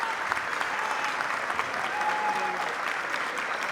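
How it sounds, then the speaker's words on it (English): Guests at a Latina heritage brunch give a warm, continuous round of applause, moderately loud and even across the room, with brief indistinct voices mixed in. "so let's give them a round of applause."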